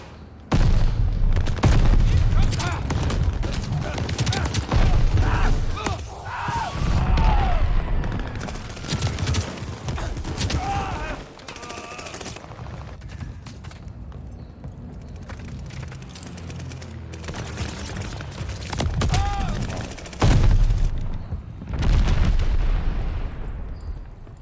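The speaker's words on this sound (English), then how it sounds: "Throwing grenade." In the Call of Duty Vanguard shooter, a grenade explodes amid repeated gunfire, with loud booms and bursts of shots rising and falling over about twenty seconds while someone talks through much of it.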